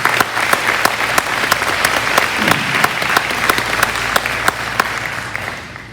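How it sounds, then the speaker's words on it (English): A school athletic awards audience claps in steady, loud applause, dense and continuous for several seconds before easing slightly at the end. "Let's give you a round of applause"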